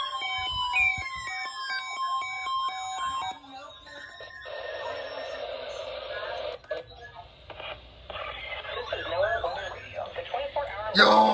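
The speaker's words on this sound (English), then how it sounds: "The preceding signal was a test of the public warning and alarm for transmitters in the Florida listening area, originating from Ruskin, Florida." EAS emergency alert tones picked up over the radio during a required weekly test from Ruskin, Florida: harsh stacked warning tones and warbling data bursts with static over a noisy band, then a voice announcement through crackly reception.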